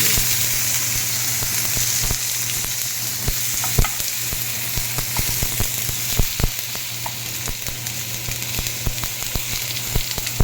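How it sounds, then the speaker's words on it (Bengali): Cumin, dried chilli and chopped tomato frying in oil in a wok, a steady close sizzle broken by sharp pops and crackles, with no voices. "কড়াইয়ে আমি তেল দিয়ে জিরে শুকনো লঙ্কা ফোড়ন দিয়ে একটু টমেটো কুচি"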